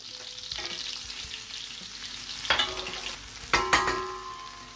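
Garlic frying in melting butter sizzles steadily with a broad hiss, while a few louder clatters and scrapes of a utensil against the pan stand out near the end.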